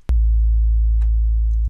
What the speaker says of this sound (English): It's a good sine wave, but there's a couple more things we need to do.